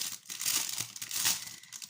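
Plastic packaging of a paint-by-numbers kit being opened, giving close, brief crinkling and crackling with a couple of louder rustling bursts, alone and without talk.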